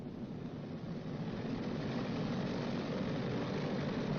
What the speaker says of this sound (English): Advance number 1 throttle to 2000 RPM.